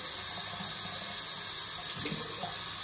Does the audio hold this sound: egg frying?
no